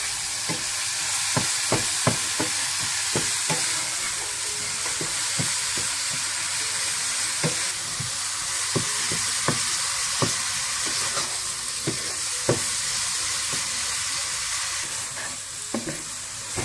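Chinese fried rice stir-frying over high heat, a steady loud sizzle with repeated sharp scrapes and clanks of a spatula against the wok, continuing alone throughout.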